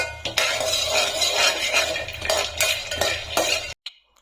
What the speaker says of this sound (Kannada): ಅದೇ ಪಾತ್ರೆಗೆ 1 ಹಿಡಿಯಷ್ಟು ಕಡಲೆ ಬೀಜ ಹಾಕ್ಕೊಂಡು ನೀಟಾಗಿ ಫ್ರೈ ಮಾಡ್ಕೊಳ್ಳಿ